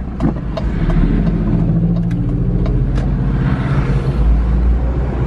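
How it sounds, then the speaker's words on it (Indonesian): A car goes by on a rural access road leading from a toll exit, a close, steady engine rumble over roughly five seconds, with no voices. "Ada mobil."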